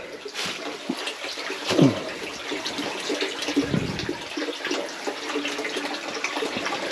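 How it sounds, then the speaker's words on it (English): Spring water pours steadily from three pipes into a deep spring box at a West Virginia spring house, a continuous close rushing and splashing with a few brief knocks and rustles on top. "Amount of water coming out of those 3 pipes."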